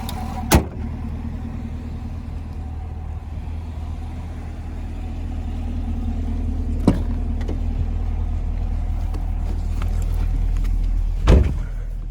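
2020 Chevy Camaro LT1 with a 6.2-liter V8 idling under an open hood, a steady low rumble throughout, punctuated by a few sharp clicks or thumps near the start, middle and end.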